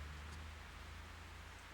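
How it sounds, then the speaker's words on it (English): Rain in the Fatal Frame 3 video game, a faint, even hiss of falling rain with a low steady hum underneath, continuous and calm with no voices. "It's raining Oh, again. it's still raining, huh?"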